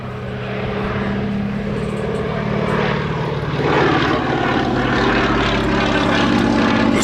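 Fairey Swordfish biplane flying with its propeller engine droning steadily, a loud continuous rumble that swells slightly as it passes, heard alone without voices.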